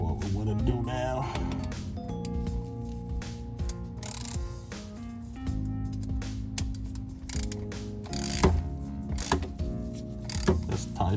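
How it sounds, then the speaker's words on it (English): A ratchet tightens the transfer case plug on a Porsche Cayenne, its steady clicking pawl running throughout in close, fairly even bursts with small pauses, at moderate loudness. "just tighten it, not too tight so you don't crack your transfer case"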